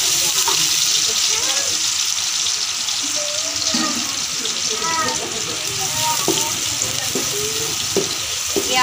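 Onions browning in ghee in a pan give a steady close sizzle with occasional stirring scrapes and light water-like crackle, running throughout under a background hiss.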